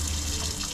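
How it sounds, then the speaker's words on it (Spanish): Water runs steadily from the sink faucet inside a bus converted into a home and recording studio, a close, even rushing stream with no voices over it. "por aquí tenemos la llave del sink"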